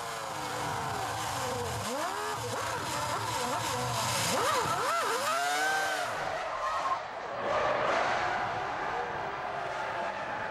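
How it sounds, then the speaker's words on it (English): A Formula 1 car spins during qualifying at Silverstone. The engine whines and sweeps sharply up and down, with tyres squealing and skidding, under a steady crowd and track wash. "Michael Schumacher had a dubious spin"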